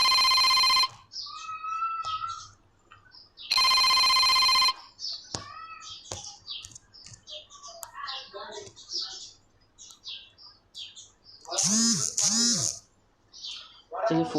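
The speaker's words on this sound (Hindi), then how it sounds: "चलिए फ़ोन आ गया था, सॉरी।" A telephone rings in two loud electronic bursts a few seconds apart, the first at the very start; someone talks between and after them, and a short chirpy tone sounds near the end.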